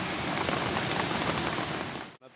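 Steady rain pours down on an outdoor bushcraft campsite during an evening walk, a dense, even hiss of drops on surfaces that holds constant before cutting off sharply near the end.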